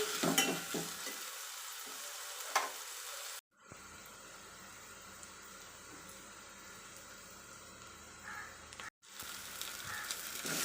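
Onions and masala sautéing in a pan for egg gravy, a steady close sizzle and frying hiss with brief stirring scrapes, cut by two short dropouts, and no talking.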